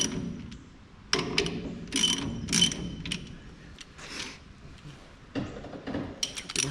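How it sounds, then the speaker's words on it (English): A heavy duty ratchet strap is worked loose during a brake job on an HG Holden. Bursts of sharp, close ratcheting clicks come in irregular spurts with short pauses between them. "Just grabbed a ratchet strap, one of the heavy duty ones"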